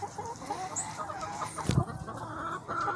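Chickens clucking softly on a farm outdoors, a low steady murmur of hens with one louder cluck partway through and a faint bird chirp.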